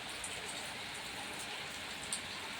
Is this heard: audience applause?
no